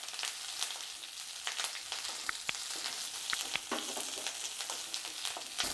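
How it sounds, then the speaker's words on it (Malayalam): Curry leaves fry in hot oil in a pan, giving a steady close sizzle with scattered sharp crackles and pops, without any talking. "ഇനി ഇതിലേക്ക് നമ്മുടെ കറിവേപ്പില കൂടി ഇട്ടിട്ട് ഇത് നല്ലതുപോലെ ഒന്ന് വറുത്തെടുക്കാം."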